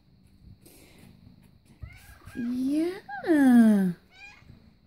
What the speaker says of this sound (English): He's a very demanding kitty, that's for sure.